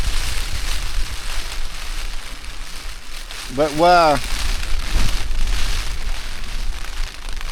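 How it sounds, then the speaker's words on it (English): Heavy rain downpour drumming steadily on a camping shelter, a dense continuous patter with a brief voice cutting in midway. "was a bit of a downpour"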